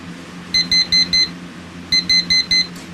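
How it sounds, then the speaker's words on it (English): A Sharp/Elgin SPC692 alarm clock sounds two loud bursts of four rapid electronic beeps each, separated by a short pause, over faint background hum. "I've gone ahead and set the alarm. Let's go ahead and listen to that."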